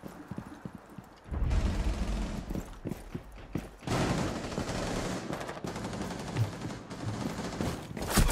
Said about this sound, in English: Doc's killed me with the pistol.